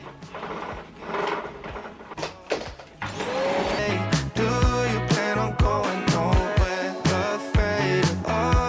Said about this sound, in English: I can't believe that you were not scared of the vacuum cleaner.